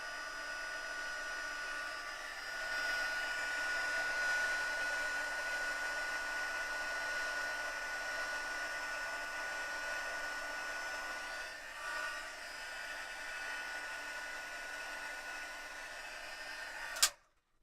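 A heat tool blows a steady, close whirring hiss for about seventeen seconds while quick-drying a craft project, then clicks off abruptly, and no one talks.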